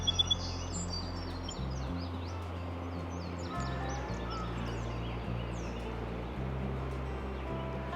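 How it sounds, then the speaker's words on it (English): Birds chirp and call intermittently in the background over a steady low hum, outdoors at a riverside campground in the morning, fairly faint. "Birds are waking up."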